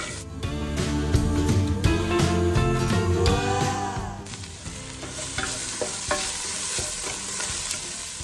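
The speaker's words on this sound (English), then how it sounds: "we're gonna add the minced garlic here and saute for about a minute." Minced garlic sautéing in a pot for zuppa toscana soup: a continuous close sizzle with repeated stirring scrapes and clacks of a utensil against the pot.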